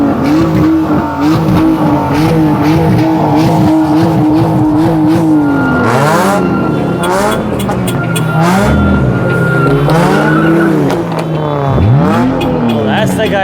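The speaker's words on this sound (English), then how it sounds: "That's the guy doing burnouts" Dodge Charger doing a burnout at a crowded car meet, with loud engine revs rising and falling, squealing tires and bursts of acceleration, plus voices talking nearby.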